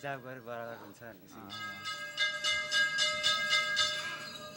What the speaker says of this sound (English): These bells have Buddhist scripture engraved on them, so when I turn them